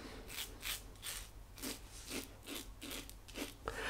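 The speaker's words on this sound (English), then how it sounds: "third pass against the growth. Using the Russian stainless steel razor." A Russian stainless steel double-edge razor scrapes against the growth on a third shaving pass, giving repeated short raspy strokes in a steady rhythm, close and fairly quiet, with no talking.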